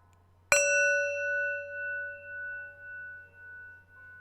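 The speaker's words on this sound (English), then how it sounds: "Let's set the bell up." A mindfulness bell is struck once, giving a clear bright ding that rings on and fades slowly with a pulsing shimmer over a faint low hum.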